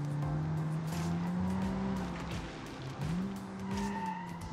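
A rear-wheel-drive 1987 Toyota Corolla AE86 replica drifts in BeamNG.Drive, its engine droning steadily while tires squeal continuously through the slide, loud and close throughout.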